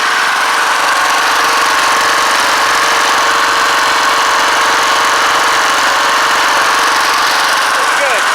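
A homemade portable DC generator engine runs steadily and loudly throughout, a constant buzzing drone with no breaks, on a cold 25-degree day.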